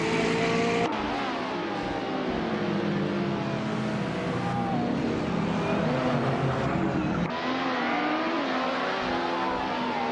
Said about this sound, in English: the race just kicked off at Autumn Ring, and leading the pack is Bot Everlasting Bot in a 2008 Porsche RS Spider Evo